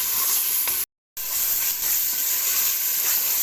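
Minced meat and peas fry in ghee with a loud, steady sizzling hiss close by, briefly cut off by a sharp gap of silence before the frying noise resumes.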